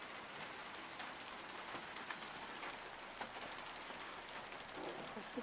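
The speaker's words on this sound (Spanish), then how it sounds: "Sigue lloviendo." Steady rain patters and hisses on surfaces, a constant wash of small drops with no voices.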